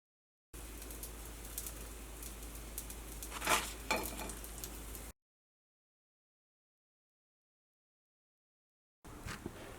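Wheat flour snack pieces fry in oil in a pan, giving a soft, quiet sizzle with a louder crackling burst partway through, then a gap of silence before the sizzle briefly returns.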